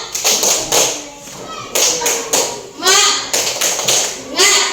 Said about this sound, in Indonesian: marilah kita semua bertepuk semangat dulu. Tepuk semangat.